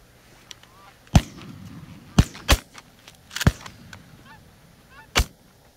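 Geese honk during an outdoor goose hunt, several calls scattered among four or five sharp, loud shotgun blasts that crack out at irregular intervals over a quiet field background.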